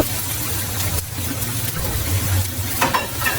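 Meat and potatoes land in a pan of fried spice paste and sizzle loudly and continuously, a close, dense crackle with no voices.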